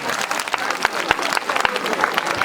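Crowd at a Bhagwat Katha religious gathering clapping for donors, a brief burst of loud, uneven applause with distinct sharp hand claps standing out.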